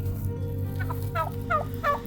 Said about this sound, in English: Say hello to the turkey.